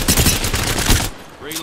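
Rapid automatic gunfire from an Apex Legends squad battle fills most of the burst, loud and dense, then cuts off abruptly, leaving a short quieter tail with a brief electronic game sound.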